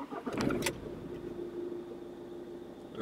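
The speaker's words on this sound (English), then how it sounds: "And now we will start the car." A Ford car with its ECU just reconnected is started: a short burst of starter cranking catches within a moment, then the engine settles into a quiet, steady idle.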